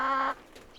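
A chicken on a small-scale farm in northern Sweden gives a single close, loud cluck or squawk that cuts off abruptly, followed by faint outdoor ambience.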